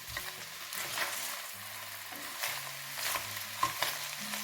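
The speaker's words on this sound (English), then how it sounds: "I'm going to add my onions into that now and let this cook right down to a point where the onions have quite a brown hue" Onions fry in a pan for chicken and chorizo jambalaya, a soft, steady sizzle with intermittent scraping as they are stirred, fairly quiet and close, with no speech.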